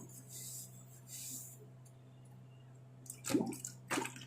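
Brass puja items rinsed under water, with faint running water early on, then a couple of louder splashing, clinking bursts near the end.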